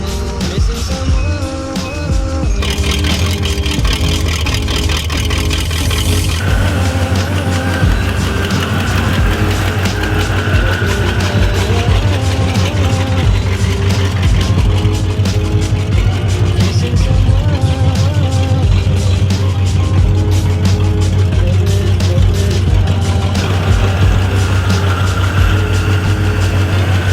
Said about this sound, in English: It's a loud car, guys.